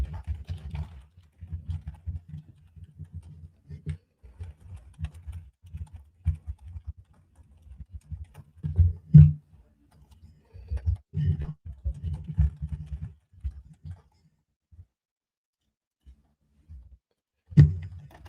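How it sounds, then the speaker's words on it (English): Typing on a computer keyboard with a few mouse clicks, the key taps coming in uneven bursts over a quiet room, then a long lull near the end with a final loud clack, all close and fairly soft. "We're almost done with the typing here"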